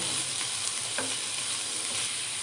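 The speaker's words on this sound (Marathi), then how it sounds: "आता हे सगळं आपल्याला मिक्स करायचं आहे" Mixed vegetables with a pinch of black pepper are stirred in an open frying pan for an Italian-style rice, making a steady close hiss with one short scrape of the spatula, no talking.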